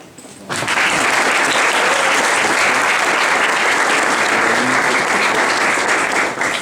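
A large audience bursts into loud, sustained applause for the mayor of Ghent. It rises abruptly after a brief quiet start and holds as a dense, even roar of clapping until the end.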